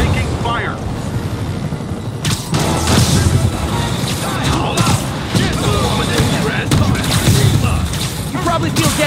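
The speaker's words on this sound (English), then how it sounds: "APC under fire. Repeat, we are taking fire." Gunfire and explosions crash close and loud in Marvel's Spider-Man game as an armored vehicle comes under attack, with rapid bursts, booms and impacts layered under radio chatter.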